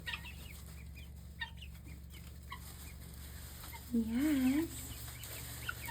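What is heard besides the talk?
young peacocks and guinea fowl calling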